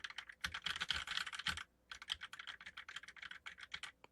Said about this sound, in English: This is a typing test.